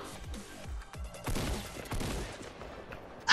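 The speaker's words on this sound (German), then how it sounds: "Raketenwerfer." Rocket launcher fire in a Fortnite Battle Royale match: a string of loud, punchy game blasts and explosions in quick succession, ending with a sharp, bright burst.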